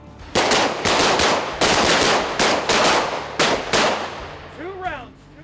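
Revolver shots in a defensive shooting drill at a range, a fast burst of loud sharp cracks in groups with short gaps, then a ringing echo and faint whistling trail at the end.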